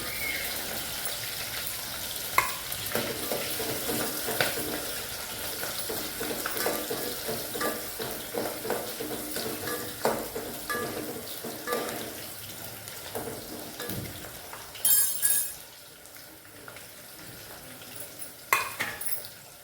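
Onions frying in a pan until brown for chicken curry, a soft sizzle with irregular stirring scrapes and clinks, plus a brief burst of running water, close with no talk.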